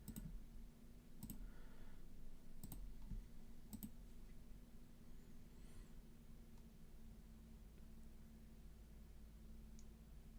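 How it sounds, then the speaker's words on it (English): Quiet computer keyboard typing: a few sparse, distinct key clicks in the first few seconds over a steady low hum, then mostly just the background hum. "Typing isn't that bad."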